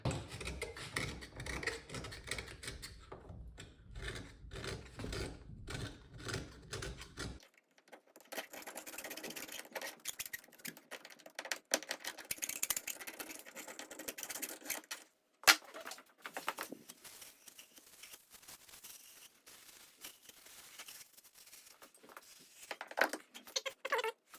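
Corrosion being scraped out of an outboard motor's steering pivot shaft, rapid rhythmic metallic scratching strokes in bursts with pauses, close up and fairly quiet.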